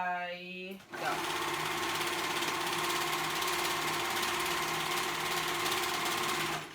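A sewing machine stitches fabric for a romper or dress, running in a fast steady whir for several seconds after someone briefly speaks, loud and near.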